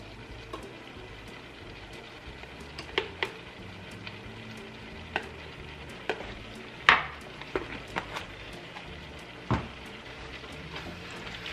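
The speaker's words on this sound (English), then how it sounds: "I'm gonna cook that together with the onions." Garlic and onions fry together in a pan with a soft, steady sizzle. Occasional sharp clicks of a utensil against the pan punctuate it, close and quiet, with no talking.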